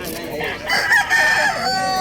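A rooster crows at Bocue Pet Market in Bulacan, a loud drawn-out call rising and falling over roughly two seconds against steady market background noise.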